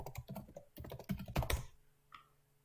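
Close, crisp keystrokes on a computer keyboard tap out a short burst of typing to name a folder, followed by a single faint click in a quiet room.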